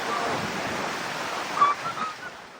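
Rushing high floodwater of the Labo River during a storm, heard as a steady, broad roar of churning water, fairly loud and continuous, with a faint voice-like murmur briefly rising near the end.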